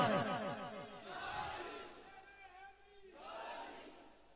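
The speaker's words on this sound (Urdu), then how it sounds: "گج کے مارو نعرے." A crowd at a religious sermon gathering chants slogans together in several swelling waves of massed voices. The chanting sounds distant and faint, with brief lulls between the bursts.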